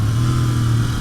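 Royal Enfield Continental GT 650 engine braking after a downshift, a loud steady low engine hum with wind noise, heard up close from the rider's position.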